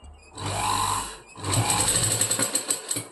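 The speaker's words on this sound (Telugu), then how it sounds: "తిప్పేసుకుని చక్కగా స్టిచ్ చేసుకుంటూ రావాలి చివరి వరకు" A sewing machine with a normal presser foot stitches fabric piping in two close, loud bursts of rapid mechanical rattling, with a brief pause between runs.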